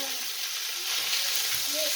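Already cooked food browning in a frying pan sizzles steadily with a bright, constant hiss, close and loud, with a few faint stirring sounds and no talk.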